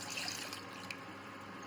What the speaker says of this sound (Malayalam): ഇനി ഒരു കപ്പ് വെള്ളം ഒഴിച്ചെടുക്കാം.